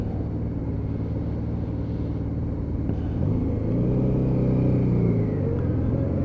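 Honda Deauville motorcycle engine chugging steadily at low revs, around 2,000 to 3,000 RPM, while riding: a continuous close low rumble that swells slightly partway through.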